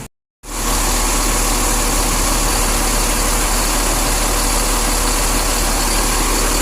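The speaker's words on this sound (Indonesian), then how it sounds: "Suara engine 1626 OH dari Pislock" A Mercedes-Benz OH 1626 bus engine idles close by, a loud, steady low rumble that starts after a brief silent gap and runs on unchanged without any voices.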